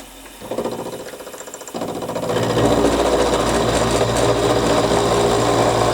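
A small milling machine cuts a large metal plate, taking a light half-millimetre pass. A steady, fast mechanical chatter and motor drone builds louder after the first couple of seconds and holds close and continuous.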